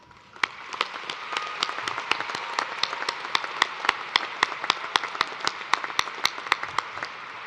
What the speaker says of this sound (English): Please join me now in applause to acknowledge the scholastic achievements of all of these